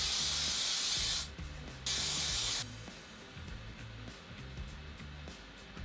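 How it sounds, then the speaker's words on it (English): Hairspray hisses onto slicked-back, wet-look hair in two loud, sustained bursts of roughly half a second each, with a short pause between them, followed by faint soft rustling. "And you add more hairspray."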